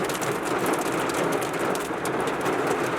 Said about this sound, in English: it is now storming